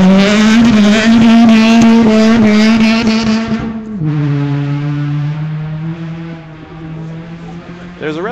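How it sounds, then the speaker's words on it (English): A Ford Focus rally car on a sand stage bounces off the rev limiter, a loud, steady engine drone with rapid stuttering pulses, dropping in pitch partway through as the revs change and continuing near and strong. "There's a rather unique sound with the Ford Focus on a rev limiter."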